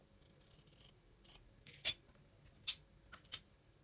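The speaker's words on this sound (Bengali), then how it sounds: "এটা আমরা এভাবে ডবল করে কেটে নিব।" Scissors snip through a doubled length of ribbon in three crisp, distinct cuts spaced about a second apart, close and clear over faint rustling of fabric being handled.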